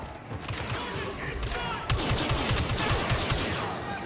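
Blaster gunfire in Star Wars Battlefront 2 campaign combat: a fairly quiet, dense stream of rapid shots and impacts, growing a bit louder partway through.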